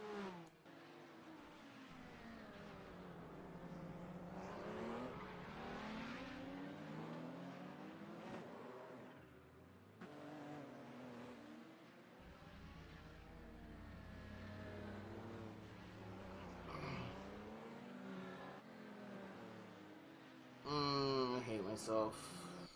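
Camel GT race cars in a video game lapping the Long Beach street circuit, engines droning and revving steadily throughout with shifting pitch as cars pass, while a voice talks over much of it.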